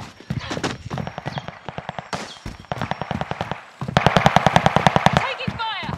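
Automatic gunfire in Call of Duty: Modern Warfare rattles in rapid, close bursts, getting louder and steadier toward the end, while a voice speaks over parts of it.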